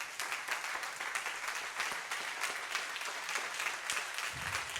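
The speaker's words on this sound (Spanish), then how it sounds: "Dale un fuerte aplauso por esa verdad." Applause from a church congregation, a steady wash of many hands clapping that holds at an even level for the whole stretch, with no voices rising above it.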